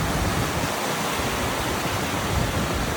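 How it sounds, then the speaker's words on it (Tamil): Niagara Falls pours down in a dense, unbroken roar of falling water, loud and close, filling the whole stretch without any voices. "அவ்வளோ பெருசுங்க நீர்வீழ்ச்சி சரியான ஆழம்"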